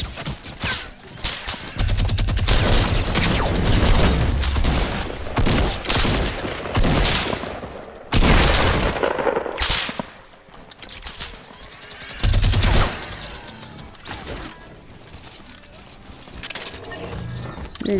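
Minigun fire in a video game rattles in long, dense bursts, loud and close, starting and stopping several times with mechanical clatter between volleys.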